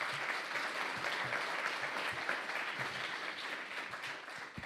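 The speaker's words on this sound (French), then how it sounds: "Je vous demande de les applaudir." Audience at a round-table on crowdfunding and bank financing applauding to welcome panelists, sustained even clapping, fairly soft, carrying on without talk.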